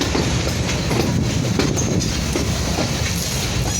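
Pakistan's fastest train crossing the historic Sindh Bridge produces a steady, loud rumble of wheels and cars with faint clatter and squeal throughout, no talk.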